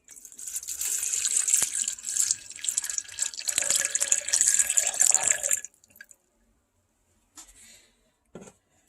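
Water pours steadily into a container for several seconds, a bright rushing splash that stops abruptly, followed by a few faint clinks and small sounds.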